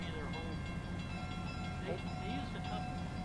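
Nickel Plate Road 765 steam locomotive with a train pulls away in the woods, a steady low rumble with faint horn-like tones, heard from a distance under quiet voices.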